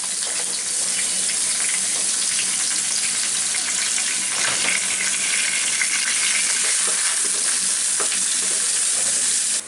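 Chopped onion, about half a cup, frying in the same oil just used for rohu fish, with a loud, steady, dense sizzle that runs the whole time and is occasionally stirred.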